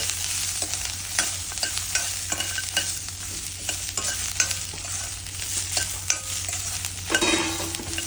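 Dried and green chilies, ginger and garlic fry for mutton keema in a pan, a steady close sizzle broken by frequent clattering stirs and scrapes of a spatula.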